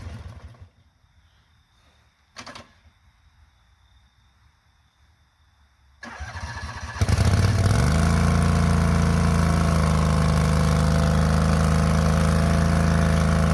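A skid-steer engine, run on about half a gallon of gas on a wet evening, starts up with a burst and then holds a loud, steady idle at close range. No one talks over it.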